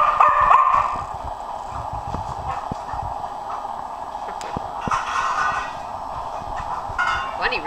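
Two energetic dogs, Bunny and another, romp and play together with scattered yips and barks amid thumping paws and shuffling, fairly close, with a faint voice now and then.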